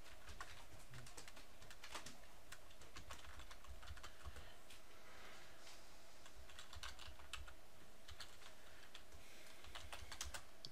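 Keys clatter steadily on a computer keyboard as commands are entered in a terminal, a close, continuous run of quick taps with faint bird cooing in the background.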